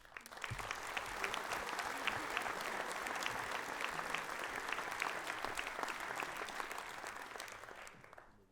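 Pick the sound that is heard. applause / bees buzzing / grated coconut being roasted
applause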